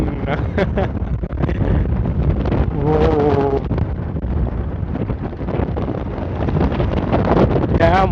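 Strong sea wind roars across the microphone during a motorbike ride on a coastal highway right beside the sea near Madhavpur beach, a loud continuous buffeting that never lets up, with faint voice-like traces within it.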